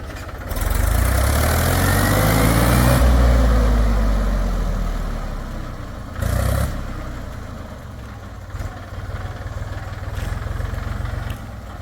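A tractor engine with a sticking clutch plate runs loud and close, swelling in a rev for the first few seconds and then settling back toward a steadier idle, with a brief knock partway through.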